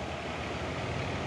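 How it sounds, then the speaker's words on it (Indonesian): Steady low engine rumble of an Isuzu Giga box truck driving past on a road, a continuous heavy drone with no voices. "Truk box Isuzu Giga."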